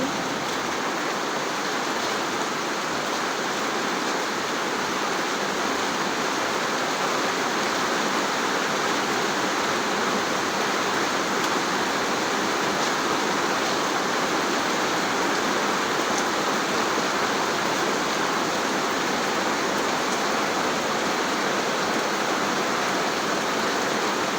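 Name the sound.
heavy rain pouring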